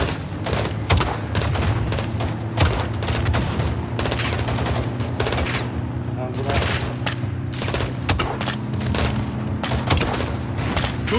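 In the Call of Duty MW II campaign, launcher explosions and rapid gunfire crack and boom in dense, continuous bursts, with German-speaking voices heard over the battle.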